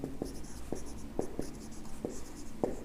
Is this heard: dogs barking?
no